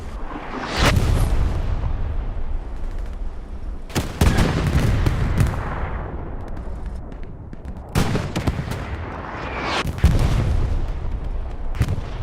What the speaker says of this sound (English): Heard an explosion